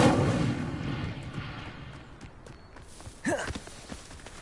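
An Incendio fire spell goes off in Hogwarts Legacy with a heavy whooshing burst that fades over a couple of seconds, then a brief sweeping magical swoosh follows, all without any speech.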